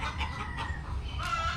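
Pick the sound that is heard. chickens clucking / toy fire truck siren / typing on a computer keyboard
chickens clucking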